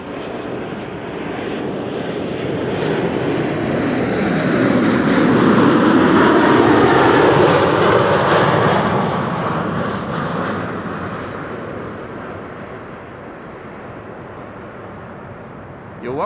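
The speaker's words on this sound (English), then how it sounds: "This is KLM flight 1930, arriving from Geneva. This is an Embraer 90." A KLM Embraer 190 jet arriving from Geneva roars past on approach, its engine noise swelling to a loud peak with a falling whine, then fading to a steady rumble. A voice talks faintly in the background.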